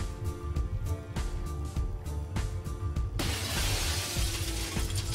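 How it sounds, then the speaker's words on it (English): Glass shatters in the video game The Sexy Brutale, a loud sudden crash with a bright spray of fragments cutting through rhythmic music that plays before and continues underneath. "glass breaks."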